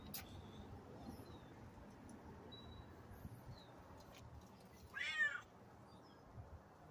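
A single faint black cat meow about two-thirds through, against a quiet background with soft room noise and a few small chirpy sounds.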